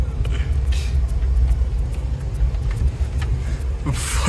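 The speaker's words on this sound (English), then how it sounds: "we're in a car" Car interior while driving over rough, bumpy ground, with a low engine and road rumble, intermittent knocks and jolts, and a brief louder rattle near the end.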